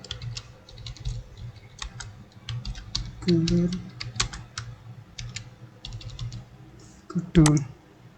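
Typing on a computer keyboard while writing HTML code: irregular clusters of light, crisp key clicks run throughout, with a few heavier keystrokes close to the microphone and soft background hum.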